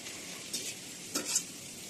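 Sesame seeds and chili powder frying in hot oil in a wok for chicken momo, a soft steady sizzle with a couple of brief stirring scrapes, no voices.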